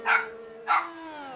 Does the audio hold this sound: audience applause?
no